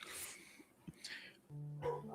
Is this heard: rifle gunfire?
no